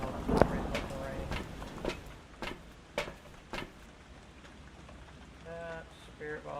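Steady rain patters on surfaces in the Phasmophobia farmhouse, with scattered thuds and ticks over it and a voice talking faintly near the end.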